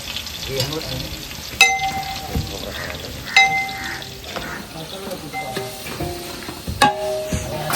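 Chopped onion sizzles and fries in hot oil in a cooking pot, a steady close crackle broken by sharp clinks and scrapes of stirring.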